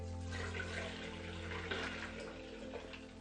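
Liquid solution pours steadily into an enema bucket at home, a continuous faint splashing and trickling of water running for several seconds without talk.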